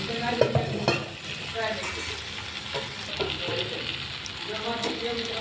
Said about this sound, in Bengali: পাস্তা দিয়ে ভালো করে ভালো করে মশলার সঙ্গে ভেজে নেব